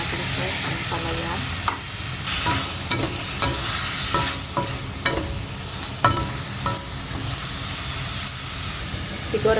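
Bitter gourd stir-fries in a pan with a steady, loud sizzle and hiss of frying, broken by repeated scraping and stirring clicks from a utensil, with no talking.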